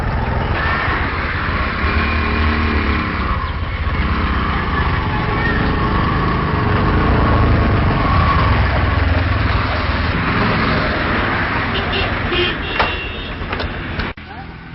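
A motorbike rides along a road with its engine droning loud and steady, close by. Wind noise rushes over it and there is a brief clunk near the end.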